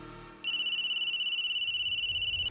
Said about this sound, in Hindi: लगता है उसी का फोन आ गया।